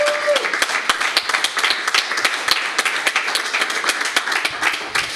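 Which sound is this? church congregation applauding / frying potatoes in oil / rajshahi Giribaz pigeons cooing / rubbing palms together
church congregation applauding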